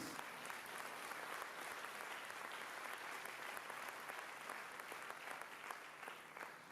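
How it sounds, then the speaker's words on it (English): Dense, steady applause from a large crowd of school district teachers, continuous clapping with no break, heard from some distance and moderately quiet. "You can clap for that, please."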